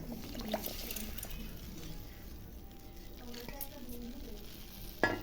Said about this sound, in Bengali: দেখো, ভালো করে ফুটতেছে খিচুড়িটা।